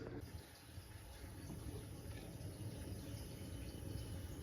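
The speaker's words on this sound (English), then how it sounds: "So I put a little water in the pot to steam the goat meat" Water poured into a cooking pot to steam seasoned goat meat, a steady, close liquid rush that fills the whole moment with a continuous splashing wash.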